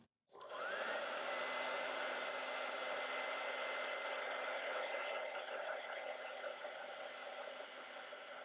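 A hair dryer blows steadily and loudly on freshly brushed acrylic glazing medium, starting abruptly after a brief silence and holding a constant whooshing roar throughout with a faint tonal hum underneath.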